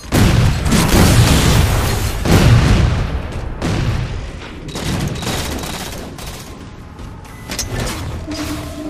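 Carbine and battle rifle fire in the Halo 4 multiplayer map Adrift, loud rapid bursts of shots overlapping with booming impacts, dense in the first few seconds and then thinning into scattered shots.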